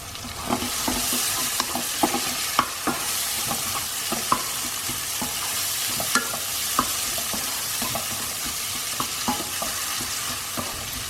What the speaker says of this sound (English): I am going to add some green chillies to your taste.